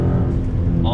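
A Dodge Challenger SRT muscle car's engine roars steadily on throttle, a loud dense low rumble filling the whole moment, with a voice talking over it.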